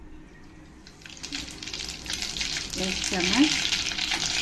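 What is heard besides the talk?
mustard and cumin seeds sizzling in hot oil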